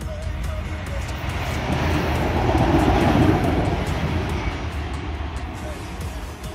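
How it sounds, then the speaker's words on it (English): A train pulls into a station, a broad low rumble building in loudness toward the middle and then fading slightly, with a brief high squeal early on and no clear talk. "Train's coming. Train's ready."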